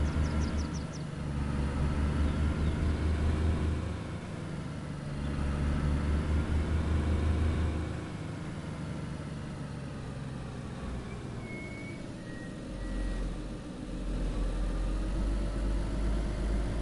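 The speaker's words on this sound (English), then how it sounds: "The car sounds a little bit rusty, but I think we'll get there." A car engine in the video game DayZ idles with a low, uneven rumble, rising and falling slightly in pitch over a long stretch, fairly quiet and without voices.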